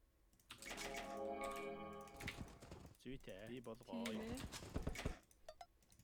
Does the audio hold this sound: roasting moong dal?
no